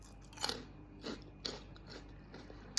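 Crunchy, salty savory chips being bitten and chewed up close, with a few distinct crisp crunches spaced about a second apart and quiet between them.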